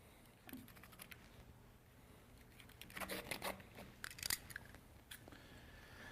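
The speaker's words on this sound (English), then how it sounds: "Then take a very sharp knife, trim the excess cloth." A very sharp knife slices through excess pool table cloth near staples, producing faint, brief cutting and scratching strokes in several short bursts that cluster toward the middle of the clip in a quiet room.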